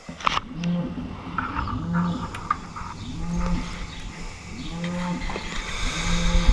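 Several cows moo repeatedly in the background on a farm during plow maintenance on an Oliver 1755 tractor with a 546 plow, with low rumbling noise underneath; the calls come in steady, drawn-out bursts.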